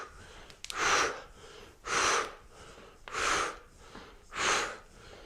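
Four heavy, forceful exhales during a core workout come in a steady rhythm about a second apart, each a close breathy whoosh separated by quiet pauses.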